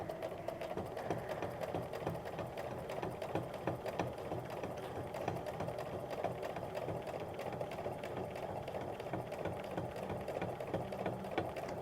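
A low shank sewing machine stitches a quilt guided by a ruler, its needle chattering in a fast, steady, even rhythm that runs without pause, close and moderately quiet.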